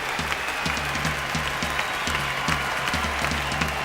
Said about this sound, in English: they're getting a great round of applause